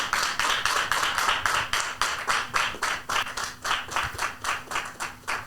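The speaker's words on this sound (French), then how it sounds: "Avec vos applaudissements, s'il vous plaît." An audience at a Bible quiz game show claps, with individual rhythmic handclaps standing out clearly as a regular, pulsing beat that carries through the clip with no talking.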